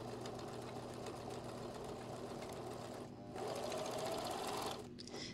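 A sewing machine stitches a bolero jacket up toward the neckline in a steady, close, continuous whir, with a short pause near the three-second mark before running on.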